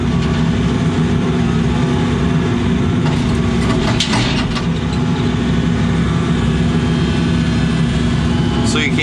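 An excavator with cold hydraulics runs at a steady, loud idle, its engine drone constant throughout, with brief metallic creaks and a voice talking over it.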